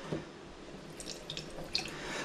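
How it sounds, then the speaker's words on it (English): Water pours from a glass into a home brew airlock, giving faint, sparse drips and small trickling splashes close by in an otherwise quiet room. "we have a glass of water here, and I'm just going to pour"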